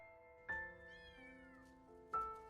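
A kitten cries with loud, drawn-out meows, close by. Three calls rise and fall with pauses between them, and a quieter wavering whine fills the gap.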